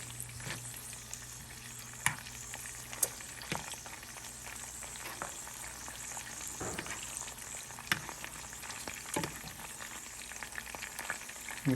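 Snipe meat sizzles in a pan over a camp cook, a continuous crackling fry with occasional louder pops and spits, heard alone and close.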